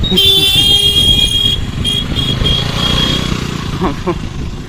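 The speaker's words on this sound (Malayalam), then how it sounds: "ഹോണടിച്ച് ഇങ്ങനെ വരിക കേട്ടോ" A vehicle horn honks in a long toot followed by several shorter ones on the Enamavu steel bridge in Thrissur, close by over rumbling engine and road noise.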